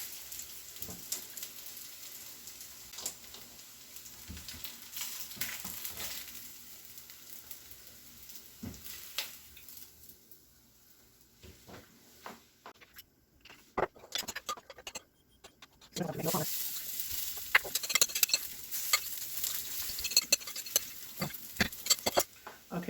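Zucchini corn fritters fry in hot oil with a steady sizzle and scattered crackles, while corn kernels pop in sharp, irregular bursts that grow louder and denser toward the end.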